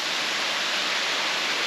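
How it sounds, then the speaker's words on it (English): A small forest waterfall running as a light drizzle, a steady broadband hiss of falling water, close and even, with no voices. "this waterfall right here is more of like a drizzle at this time"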